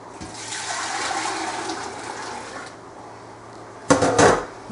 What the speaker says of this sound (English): I pour it back in the pot.